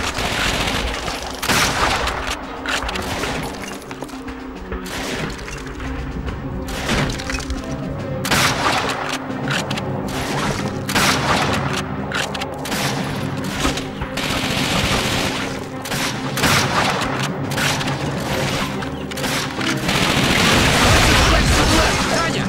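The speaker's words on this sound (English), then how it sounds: "More Panzer Shreks to the left!" Panzerschreck rockets and explosions crash and boom in Call of Duty: Finest Hour, a World War II shooter, amid dense continuous gunfire and blasts across a factory battle, loud and nearly unbroken.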